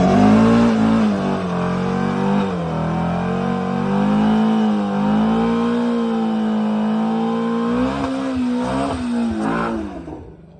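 Ford Mustang Shelby GT350 being moved, its engine close and loud with a steady throaty rumble that rises and falls in pitch as it revs and rolls, fading quickly at the end.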